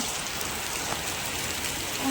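Steady, dense rain hisses continuously, loud and close, with no voices.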